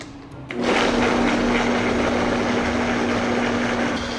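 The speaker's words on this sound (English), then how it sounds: "you're gonna need a high-powered blender to make this recipe" A high-powered blender whirs steadily through paleo banana pudding ingredients, starting abruptly after a brief quiet moment and then running loud and constant.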